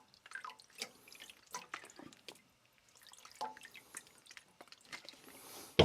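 Water drips and trickles irregularly off a single-bevel deba knife set over a sink after sharpening, with scattered small splats and patters close by.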